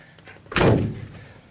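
A 28-year-old Chevy van's door swings shut with a single loud, solid slam and a thud, followed by a brief fading rattle, with no talk over it.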